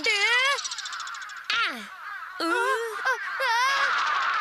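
A voice gives a series of harsh, wavering caw-like cries, imitating a crow, in several loud bursts with brief gaps between them.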